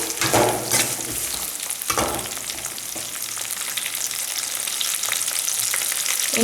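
Okra sautéing in a pan for a Tamil kara kuzhambu with okra and eggplant, a steady close hiss and sizzle of hot oil with faint stirring crackles throughout, no talk.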